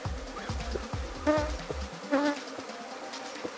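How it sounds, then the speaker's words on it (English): Honeybees buzz around a honeycomb that is starting to be sealed as they are cleared off it and sent back to the hive, with low thumping handling noises and a rising, close drone. "clean the comb of all the bees. We want the bees back in the hive."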